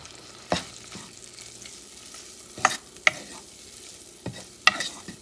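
Rice with squid in its ink simmering in a pan, a soft continuous sizzle with a few distinct scrapes and taps of a utensil against the pan, close and otherwise quiet.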